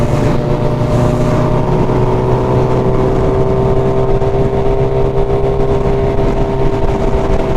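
A Suzuki Hayabusa rides steadily, its engine holding a constant droning tone with steady harmonic hum and wind rush, loud and close throughout, with no talking.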